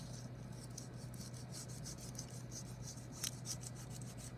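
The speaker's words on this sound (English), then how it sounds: "rub where the leaves are so that we can see what those leaves look like, see the texture" Paper rubbed over leaves to pick up their texture gives a soft, steady, rasping scrape in repeated even strokes, faint and close, with no voices.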